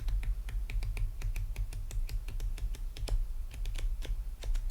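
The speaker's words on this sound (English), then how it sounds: "That is how you riffle a deck of cards." Playing cards riffled together in a saloon card-game setting, a rapid run of crisp clicking flicks over a steady low hum, close and moderately loud with no voices.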